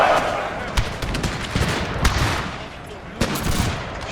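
Volleys of musket gunfire crackle through a Thirty Years' War battle in Total War, with Habsburg and Cossack troops firing in repeated sharp bursts over a dense battle din, while a voice speaks over it.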